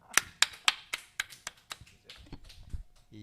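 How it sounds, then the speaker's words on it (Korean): A church congregation at a Wednesday worship service claps in a quick run of sharp, evenly spaced claps that soften and scatter toward the end. "박수 한번 치죠"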